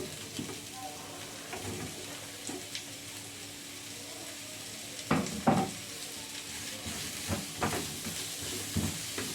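Onions sizzle quietly in a pan as a soft frying hiss, with a few louder clanks and stirring scrapes midway, close but faint.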